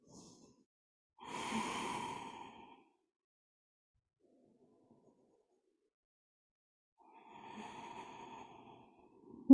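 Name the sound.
slow deep breathing in child's pose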